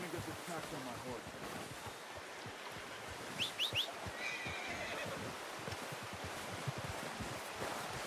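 A horse in the video game Red Dead Redemption 2 gives a brief whinny midway, faint over a steady wash of wind or surf-like ambience, with a few soft hoof sounds.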